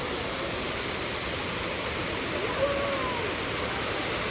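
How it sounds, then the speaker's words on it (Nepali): Jalpari waterfall at Manahari, Nepal, gives a dense, constant roar of falling water that fills the whole scene, with a brief faint whistle-like tone midway. "झरना चाहिँ फेरि यस्तो मिठो छ"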